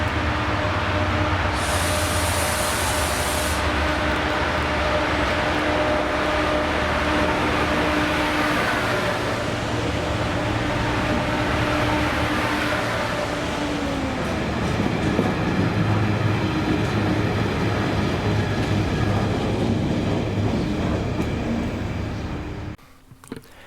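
A freight train hauled by class 68 locomotives 68007 and 68016 rumbles past close by in Scotland, loud and continuous for over twenty seconds with engine drone and wagon rattle, then drops away abruptly.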